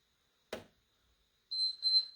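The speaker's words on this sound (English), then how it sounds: "Yes, there is that beep." Workout timer beep during a HIIT circuit: a short high electronic tone sounding twice in quick succession, clear and alone after a brief soft knock.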